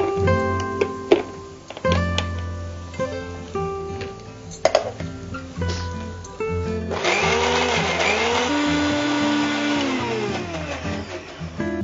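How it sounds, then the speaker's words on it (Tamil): A mixer grinder blends tomatoes in a home kitchen, its loud, steady whirring roar kicking in partway through and running continuously to the end after a stretch of tonal background sound. "வந்து அதை மிக்சியில கிரைண்ட் பண்ணிக்கலாம்"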